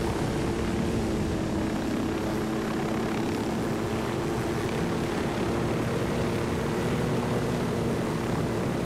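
A helicopter in Ghost Recon Wildlands drones steadily for the whole stretch, a continuous rotor and engine hum at even loudness with no talk over it.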